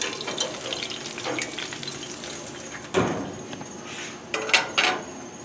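Steak sizzling on a hot grill at high temperature, a steady crackling fry with a few louder bursts and clatters near the end, close and moderately quiet, no talk.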